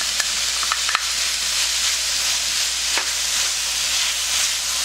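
Radish stir-frying in a pan while cooking down until no water remains, a loud continuous hissing sizzle with a few brief clicks and scrapes of a utensil.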